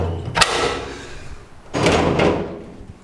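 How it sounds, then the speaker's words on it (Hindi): A rooftop door opening onto a terrace with solar panels, giving a sharp thud near the start and then a louder scraping, rattling swing about a second later, close and loud. "I am opening up this second छत का दरवाज़ा"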